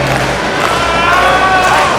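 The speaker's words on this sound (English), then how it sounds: "the crowd is getting behind James Grimm" A wrestling show crowd at a military family day event roars in a continuous, loud wall of cheering and shouting, with a few higher voices rising above the din.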